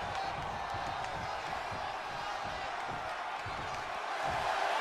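Arena crowd in the WWE 2K24 wrestling game, a steady wall of cheering and murmur with no breaks, fairly loud and continuous throughout.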